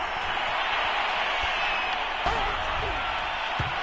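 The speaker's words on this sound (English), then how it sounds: "This home crowd, they're happy with that call." Home crowd in a football video game on PS4 roars steadily after a third-down flag call, a dense, continuous cheer with a few thumps, while a commentator talks over it.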